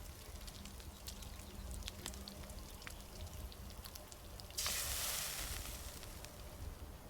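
Food cooks over a campfire in the Enshrouded video game, a soft crackling hiss with scattered pops. A brighter rush of sizzling noise swells near the end.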